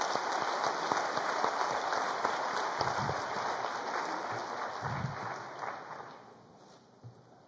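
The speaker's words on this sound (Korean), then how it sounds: "장로님들께 다시 한번 큰 박수 한번 보내드리겠습니다" A congregation at an early-morning church revival service applauds after the elders sing a hymn. The steady clapping gradually thins out and fades toward the end.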